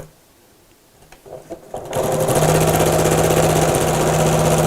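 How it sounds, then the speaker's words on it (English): A sewing machine stitches stocking lining pieces together, starting after a few quiet clicks and then running in a steady, close, buzzing whir to the end. "Then I'll need to sew the lining pieces together."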